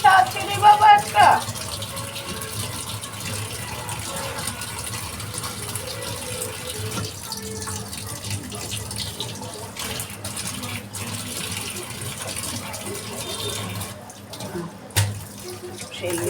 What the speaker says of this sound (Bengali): ওই প্রেসার কুকার মাজতে গিয়ে মেজে দিলাম